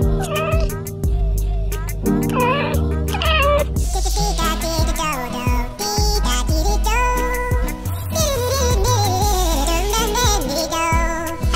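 Cats and kittens meow one after another, loud and close, a string of drawn-out cries and short mews with varied pitch and some overlapping calls and background music.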